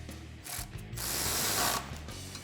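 A ratchet wrench tightening suspension lift bolts on a Toyota Tundra fitted with a Rough Country 3-inch bolt-on kit, quick clicking strokes close by with a longer rasping pull in the middle.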